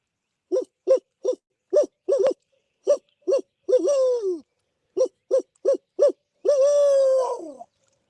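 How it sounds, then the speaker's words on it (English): An owl hoots in a rhythmic series of short calls ending in a drawn-out wavering hoot, repeated twice, loud and clear with silence between, at Barren River Lake, Kentucky. "you know hoot owls will make the turkeys gobble"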